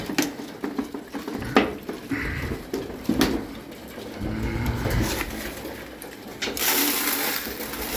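Pigeons in a loft of about thirty birds, with soft irregular cooing and scattered wing flutters and shuffling, fairly close, with no talk.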